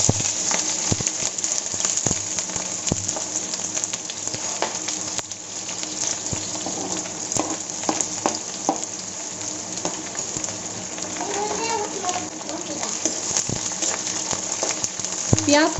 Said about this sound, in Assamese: তেলখিনি গৰম হৈ গৈছে আৰু ইয়াত দিছোঁ মই এতিয়া 2 খিলা তেজপাত তাৰপিছত দিছোঁ এয়া কাটি থোৱা পিঁয়াজ